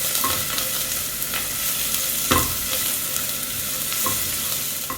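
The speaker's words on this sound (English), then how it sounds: "Friend, I just added my oil and now I'm going to add my garlic." Garlic sizzling in hot oil in a pan, a continuous bright hiss broken by several sharp clinks and scrapes as it is stirred quickly.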